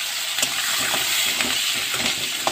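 Green chillies fry in hot oil with a bay leaf, giving a loud, steady hiss and crackle throughout, close up with a few soft pops and stirring taps.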